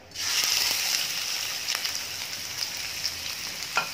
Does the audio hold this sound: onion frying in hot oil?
yes